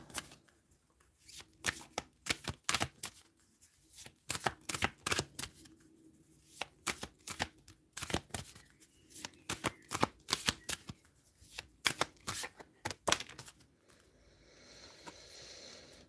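Tarot cards are shuffled for a reading in a long run of crisp riffling bursts, close and fairly quiet, with short pauses between shuffles and a softer rustle at the end.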